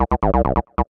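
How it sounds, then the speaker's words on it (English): Techno acid loop from the Radiant pack, a 303-style sequence of short, punchy resonant synth notes in a quick stuttering rhythm, heard alone and up close. "One of the purest form of a sequence is a techno acid loop"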